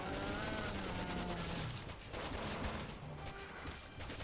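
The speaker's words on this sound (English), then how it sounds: "That's great, I'll just shoot him." Rapid gunfire in the video game Resident Evil 6, a dense rattling burst of shots that pauses briefly and then resumes, loud and close.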